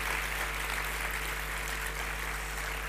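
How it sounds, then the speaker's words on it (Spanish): An auditorium audience at a talk applauds in a steady, dense wash of clapping that stays even throughout, with a constant low hum beneath it. "¿Cuántos pueden aplaudir por eso?"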